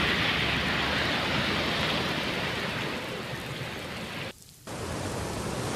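Heavy monsoon downpour in Khed taluka, a steady, dense roar of rain that holds at full strength with one brief dip near the end.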